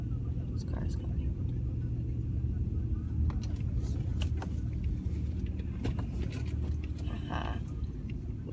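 A car rolls through a store parking lot, its steady engine and tire rumble close and continuous while people speak quietly nearby.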